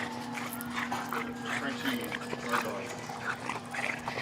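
A dog whimpers and whines softly in short bursts, nearby but quiet, against a low background hum and faint voices.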